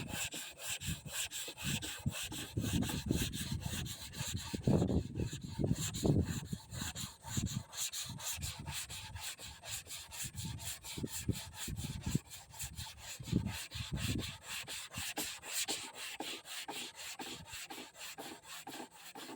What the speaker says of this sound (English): Then I go over it with the 320, take the deeper scratches out of it